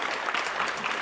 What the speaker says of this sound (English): Yes, we should applaud that.